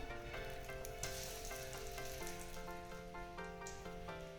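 Bay leaf and dried chili tempering sizzle in hot oil left over from frying fish, a steady close crackle with small pops and no voices.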